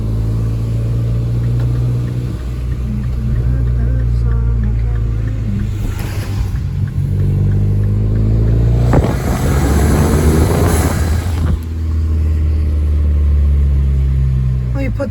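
A turbocharged Mini Cooper S engine with a short intake rumbles steadily, then revs hard in a couple of loud surges before settling back, close by.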